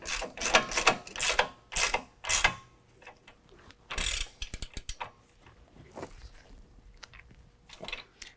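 A ratchet with an 18mm socket snugs up factory hardware during a lift kit install on a 2018 two-door Jeep Wrangler JL, making bursts of rapid close clicking followed by scattered shorter clicks and small metallic knocks.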